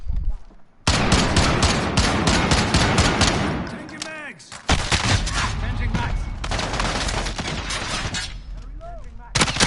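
Dense, sustained automatic gunfire from the Call of Duty beta, a loud rattling stream of rapid shots with brief pauses and bursts under faint game noise.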